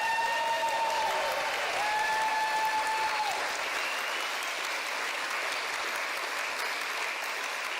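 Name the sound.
audience applause at a conference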